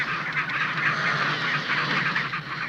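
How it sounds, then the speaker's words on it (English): A dense chorus of Magellanic penguins calls continuously, with honking, braying cries overlapping one another at close range. "They are ring-necked Magellan penguins"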